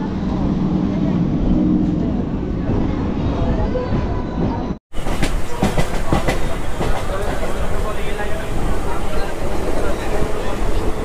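A local train runs on the line out of Sealdah toward Park Circus, giving a steady loud rumble with rail clatter throughout and a brief cut near the middle.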